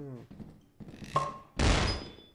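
A homemade flashbang going off in Lethal Company: a sudden loud burst after a short stretch of quieter sounds with a voice, followed by a thin, high ringing tone as the blast fades.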